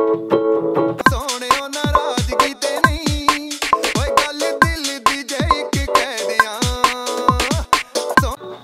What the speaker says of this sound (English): the next thing I did was play some chords. I used the electric 88.